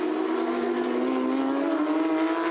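Team Jepson Porsche Carrera Cup race car number 55, from a Carrera Cup Asia 2022 round, holds a loud, steady high engine note, its pitch rising slightly while sustained at full throttle, with no voices.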